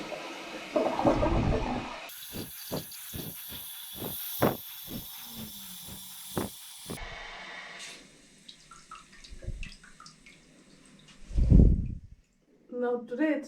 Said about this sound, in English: So when you flush this one,